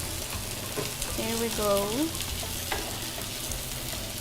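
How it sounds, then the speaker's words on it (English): Vegetables sautéing in coconut oil in a pan, a continuous close sizzle with scraping stirring strokes, while someone briefly talks and sings a short melodic phrase over it. "now for you to saute your vegetables"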